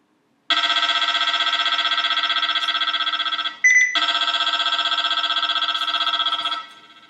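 Max360 radar detector sounding Ka band and then K band alerts: a loud, steady electronic beeping tone rapidly pulsing for about three seconds, a brief two-note chirp, then the continuous alert resuming until it fades.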